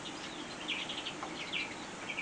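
Young greenfinches being fed by the cock bird, giving faint, rapid high chirps and begging calls in short bursts over a steady background hiss.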